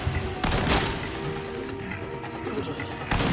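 Shotgun fire in Resident Evil 4 Remake: a few loud, broadband blasts with crashing impacts, one near the start and another near the end, over dense game combat noise.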